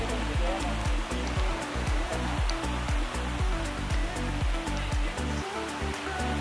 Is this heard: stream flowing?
yes